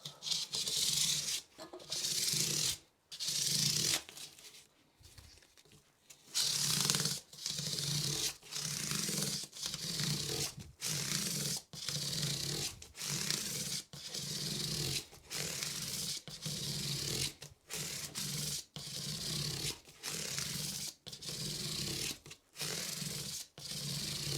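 Folded 400-grit sandpaper rubs over the edges of a handmade guitar body, a long run of rhythmic back-and-forth rasping strokes, close and steady, with no voices.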